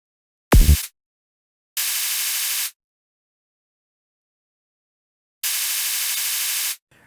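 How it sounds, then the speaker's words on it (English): Three separate bursts of harsh, full-band white noise synthesized in Vital and played as MIDI 16th notes, each lasting about a second, with silence between them; a short low thump precedes the first. "now we have a series of very annoying 16th noise blasts"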